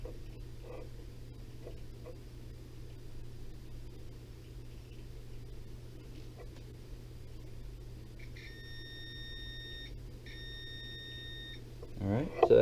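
A multimeter gives two short, steady electronic continuity beeps in a row while testing a TV fuse, sounding faintly over a low background hum in a quiet room.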